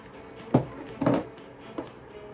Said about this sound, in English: We are going to add in the sugar. Mix until everything dissolves.